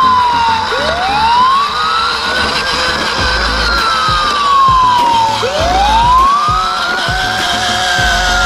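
A toy fire truck's wailing siren sweeps up and down repeatedly over a steady electronic drone, loud and close, with no talking.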